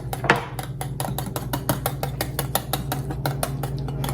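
Melted butter being blended into pumpkin spice pancake batter, a quick regular clatter of a utensil striking the bowl in a steady whisking rhythm, close and fairly loud.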